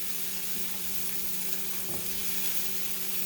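Onions sizzle steadily in a hot pan while being stirred, a continuous close crackling hiss with faint scrapes from the stirring and no talk.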